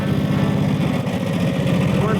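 A 90-year-old foot-clutch motorcycle rides off with a close, throbbing engine chug and a steady mid-pitched putter. A voice talks over it.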